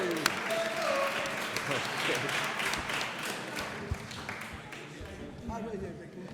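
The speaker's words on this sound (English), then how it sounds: "Folks, please give him a round of applause." An audience at a press conference gives a round of applause, sustained clapping that gradually thins, with a voice and a few shouts mixed in.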